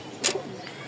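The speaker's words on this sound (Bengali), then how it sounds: "এই হচ্ছে 2 জোড়া কবুতর আছে" A brief, soft coo from a pair of domestic pigeons kept for sale, one short rolling call rising near the start against quiet background hiss.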